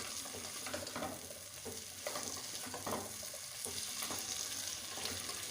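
Potatoes tipped into a pan of frying bell peppers bring on a steady sizzle with scraping stirs, recurring strokes roughly each second over the constant frying hiss, with no talking.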